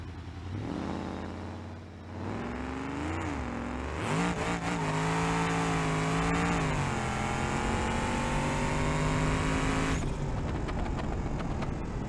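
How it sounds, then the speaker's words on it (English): A twin-turbo Barstow car engine revving in BeamNG.drive, climbing loudly through the revs with rising harmonic whine, a brief dip, then a long sustained high-rpm howl before cutting back, close and alone. "revving out to 7 grand, I'll be pretty happy"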